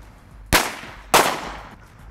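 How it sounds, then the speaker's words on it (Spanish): Two sharp firecracker bangs go off about half a second apart beside a Doogee S95 Pro rugged phone, each a loud crack that trails off quickly, with a quiet background between. "me quedan dos petardos y los voy a encender de nuevo"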